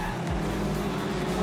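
Production sedan race cars at Maryborough Speedway, a loud, dense roar of engines and tire noise from a crash into the wall, continuous for the whole brief moment.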